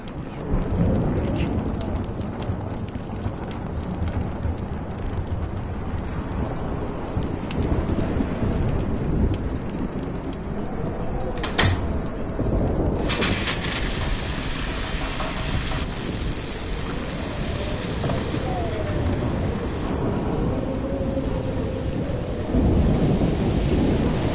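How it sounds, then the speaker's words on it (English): Thunderstorm with heavy rain in the video game Life is Strange, a continuous loud roar of rainfall with rolling thunder rumbles and a sharp crack midway, steady throughout. "Storms."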